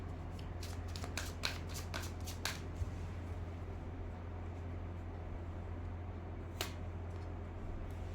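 A tarot deck being shuffled, rapid riffling bursts of card flicks in the first few seconds and another brief flutter later over a steady low hum, fairly quiet and without speech.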